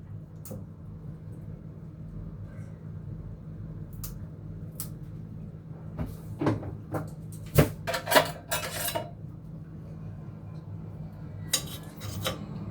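Ingredients for shrimp spring rolls are cut and pounded in a kitchen, with scattered knocks and clinks over a steady low hum and a cluster of sharper strikes near the middle.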